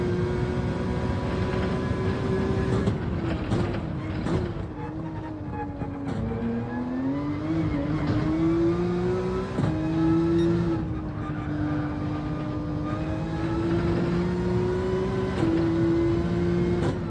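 A GT3 race car in Gran Turismo 7 at Laguna Seca, its engine droning loudly and steadily, pitch rising and dropping through gear changes and corners, with no one talking.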